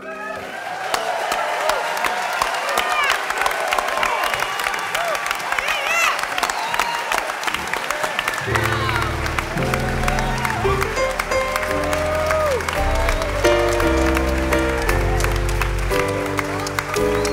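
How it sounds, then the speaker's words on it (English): An audience at a gospel family matinee concert bursts into sustained applause and cheering, dense and loud throughout, with musical instruments entering underneath partway through. "You waited till the end and clapped."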